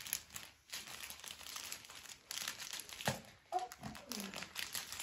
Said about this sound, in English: rip it up.